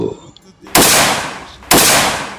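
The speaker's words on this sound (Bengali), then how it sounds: "রাইফেলের তাজা গুলি, আবারও গুলির শব্দ।" Two sharp rifle gunshots fired by police beside a university's main gate, each a loud sudden crack followed by a long decaying echo, spaced about a second apart after a quieter lead-in.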